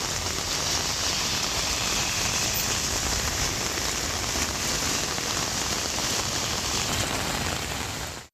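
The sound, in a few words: heavy summer rain in Kanchipuram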